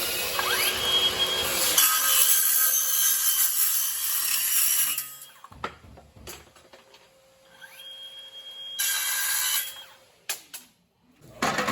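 A Hilti cordless saw cuts wood in two bursts: a loud whining cut lasting about two seconds, then quieter running, then a second shorter cut with motor whine, with pauses and clicks between.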